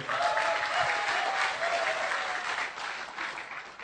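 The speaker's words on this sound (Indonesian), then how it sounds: "Tepuk tangan untuk Ibu Ilya" Sustained crowd applause, many hands clapping together at a steady level with a slight swell and fade.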